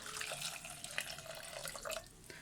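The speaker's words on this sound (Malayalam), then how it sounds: "നമുക്ക് ഇത് വേവാൻ ആവശ്യമായിട്ടുള്ള വെള്ളം ഒഴിച്ചു കൊടുക്കുക" Water runs and splashes steadily into a pot, a continuous gurgling pour with small bright splashes, fairly close.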